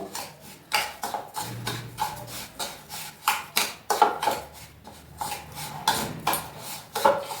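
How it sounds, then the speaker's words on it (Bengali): Semolina and salt being stirred together in a bowl, a steady run of scraping, rubbing strokes with a spoon against the bowl, close and fairly quiet, with no talk. "এবার এগুলোকে আমি ভালো করে একটু মিক্সড করে নেব"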